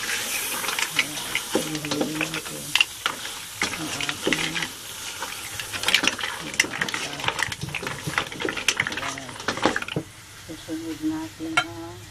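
Seafood kare-kare sizzles in a pan while a utensil stirs it, giving repeated clatters and scrapes over a soft frying hiss, with a voice talking now and then.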